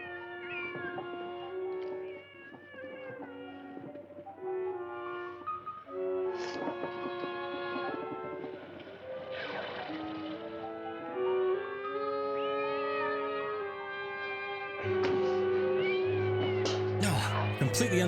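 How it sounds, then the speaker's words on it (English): A cat meows repeatedly in drawn-out, wavering cries over layered musical tones, with loud tonal background throughout. "Sheesh, this poor cat."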